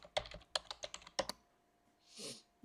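Someone types a web address on a computer keyboard, producing a quick, uneven burst of light key clicks up close but fairly quiet, then a short soft whoosh after the typing stops.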